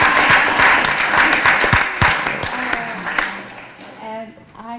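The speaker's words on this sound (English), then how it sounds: "I'll clap for myself." A woman applauding herself, brisk close hand claps that slow and fade out, with speech over them.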